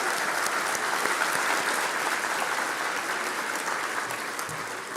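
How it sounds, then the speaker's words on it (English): A large audience at a medical school Match Day 2024 ceremony applauds the newly matched students. The clapping is sustained and dense from start to finish, tapering slightly toward the end, with no clear talking over it. "So round of applause for these matched students,"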